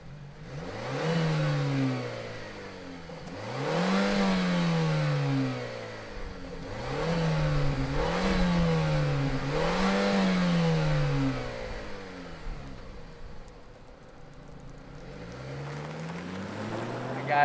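A 2021 Mazda CX-30 Turbo with all-wheel drive starts up and revs several times. Its engine note rises and falls in repeated swells over a steady idle and stays loud and close throughout.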